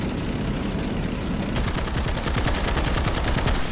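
Rapid machine-gun fire from a British tank in the combat game War Thunder, struggling through sand: a steady rattle of evenly spaced shots that starts partway through over a constant engine rumble.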